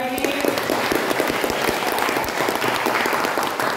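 An audience applauds after a talk, with dense, steady clapping from a crowd that fills the whole stretch at close range.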